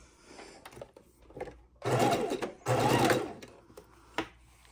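A sewing machine stitches a quilt block seam for a scrappy log cabin quilt, running in two steady bursts of about a second each, separated by a short pause, with quieter handling noises before and after.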